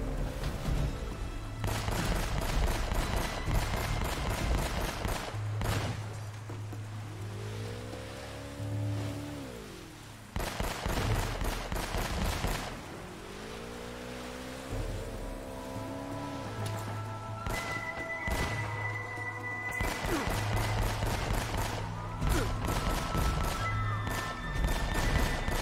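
Rapid gunfire from Uncharted: Drake's Fortune in long bursts, loud and close, with pauses filled by swelling game music and rumbling ambience, and no talking.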